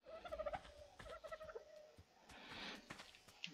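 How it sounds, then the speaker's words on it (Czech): Birds cackling in the video game ARK: quick, faint squawking calls in short bursts at low volume. "To kejhání."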